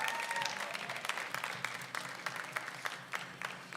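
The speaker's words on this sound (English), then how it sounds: "let's give Jill a big round of applause" Audience at a natural bodybuilding show applauding a competitor, a dense wash of clapping with distinct sharp claps that gradually thins out over a few seconds.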